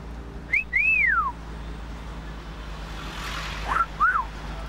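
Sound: person whistling

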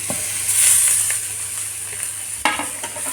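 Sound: hilsa fish frying and being stirred in a pan

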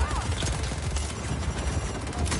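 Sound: grenade explosions and gunfire in a video game (GTA)

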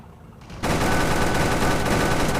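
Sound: Humvee M1038 anti-aircraft vehicle firing, video game Clash of Panzer

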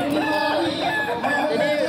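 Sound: Kukuak Balenggek rooster crowing, endemic chicken from Solok

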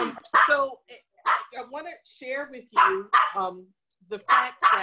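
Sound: dog barking

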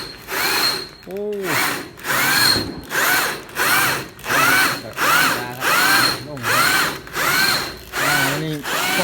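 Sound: power drill drilling

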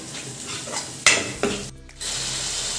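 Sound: frying masala spices in oil

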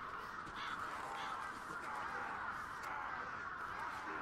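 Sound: ravens cawing in Bullet Witch video game

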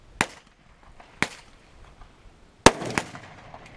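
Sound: Thompson submachine gun (Tommy gun) shots

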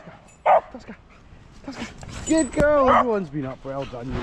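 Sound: small dogs barking

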